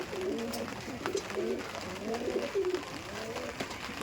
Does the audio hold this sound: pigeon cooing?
yes